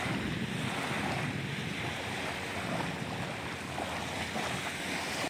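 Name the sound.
sea waves at Werribee South beach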